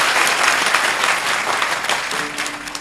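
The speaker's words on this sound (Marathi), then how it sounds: "एकदा टाळ्या तर वाजव." Audience clapping at a kirtan in a temple at Alandi, a loud, dense burst of applause from a large crowd that holds steady and tapers slightly at the end.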